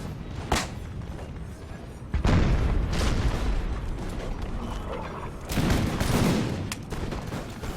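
Volleys of musket fire from ranks of Russian soldiers in a video game, heard as several loud booming bursts of massed shots at intervals over a rumbling battlefield background.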